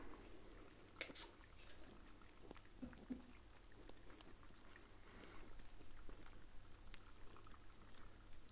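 Water is poured and trickles during a spa hair and facial treatment, a soft close liquid splashing and bubbling with a few small taps, quiet and steady throughout.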